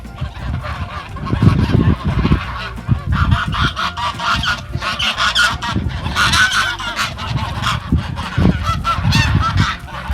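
Loud, harsh honking from several geese, repeated and overlapping in noisy bursts close by.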